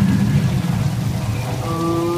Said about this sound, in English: It's raining. This is, wow, it's really coming down, too.